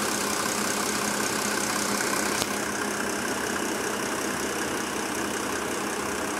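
A 1993 Mercedes S350 W140 turbo diesel idles steadily and smoothly, a continuous broadband engine hum with no talk and one brief click partway through.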